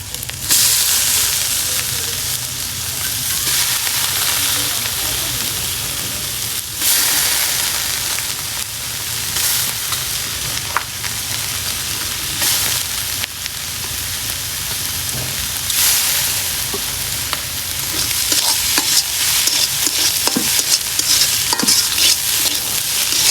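Pumpkin pieces fry and sizzle in a pan with beef tongue bhuna, a steady loud sizzle broken by repeated scraping stirs throughout, with no talking.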